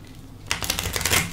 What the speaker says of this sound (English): Oh, now I'm gonna do a little bit more shuffling there.